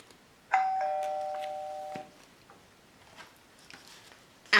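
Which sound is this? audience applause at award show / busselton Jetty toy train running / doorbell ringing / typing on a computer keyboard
doorbell ringing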